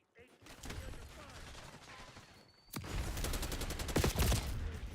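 Rapid AK assault rifle bursts in Call of Duty Black Ops 6, loud and close, growing denser and more intense partway through as sharp repeated shots crack over game ambience.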